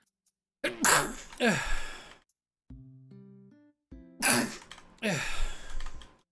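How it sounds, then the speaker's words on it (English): A person sneezes twice in loud, close bursts separated by a quiet stretch with a soft tonal sound, with brief talk in between. "Sneeze."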